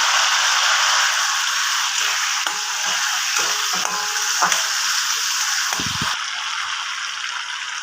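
Onions frying in a pan with vegetables and spices for chilli soyabean, giving a steady, close hiss of sizzling oil broken by a few soft stirring knocks and scrapes.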